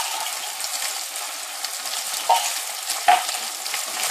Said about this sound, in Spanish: Remuevo un poquito.